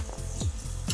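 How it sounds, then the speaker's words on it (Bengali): Eggs frying in hot oil, a steady close sizzle over about a second with light scraping stirs of a utensil in the pan. "এই যে 3টে ডিম ভেজে নেব।"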